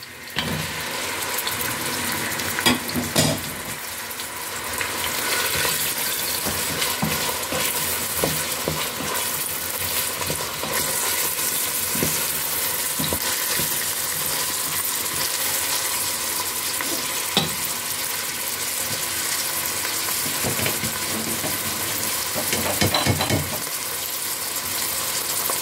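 Fresh spring onions fry in a pan with chickpeas and spinach cooking, giving a continuous loud, close sizzle broken by occasional stirring scrapes and clatters, with no talking.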